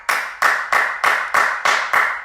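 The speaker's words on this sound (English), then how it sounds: "Can we clap?" A group claps in unison during a live exercise session, seven crisp, evenly spaced claps in a steady rhythm, close and loud with no talk.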